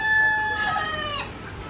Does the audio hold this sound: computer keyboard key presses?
no